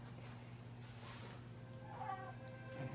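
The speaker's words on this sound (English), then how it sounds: "I got my friend Brownie here, my cat" A pet cat meows a few times close by against a steady low electronic hum, with some brief higher cries near the end.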